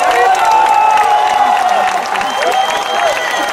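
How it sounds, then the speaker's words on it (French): Audience at a comedy festival show applauding and cheering an artist, a dense wash of clapping with whoops and a voice rising over it, steady and loud throughout. "C'est comme ça que vous applaudissez votre artiste?"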